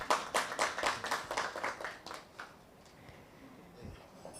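An audience claps for an arriving chief guest at a wellness gathering, the applause coming as a quick rhythmic series of bright claps for about two seconds before fading into a quieter room.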